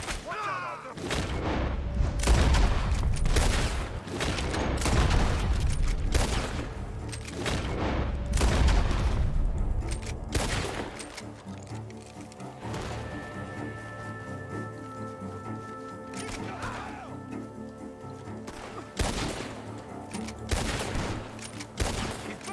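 Rapid, overlapping gunfire and booming shots from a shootout in the video game Red Dead Redemption 2, loud and dense for much of the stretch and thinning out toward the end, with a faint hum beneath.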